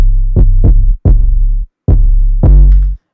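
Deep booming 808 bass hits in a trap-style beat pattern, five heavy sustained thumps with short gaps, loud and close, the last one longest, with no other sounds or talk.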